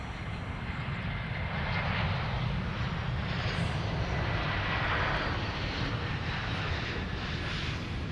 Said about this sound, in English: That's Delta Airlines Flight 1621 using an Airbus A321.